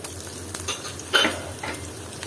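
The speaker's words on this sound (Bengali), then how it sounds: "এটাকে আবারও নেড়ে ছেড়ে দিব ভালো মতো পেঁয়াজের সাথে কষিয়ে নিব আমি মশলা" Onions, garlic and ginger-garlic paste fry and sizzle in a pan while a utensil stirs them, with a steady crackle and a few louder scraping strokes, close and fairly quiet.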